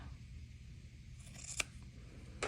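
Scissors make a quiet snip or two while cutting off fabric binding on a small sewn case, the faint blades closing briefly against a soft background hum.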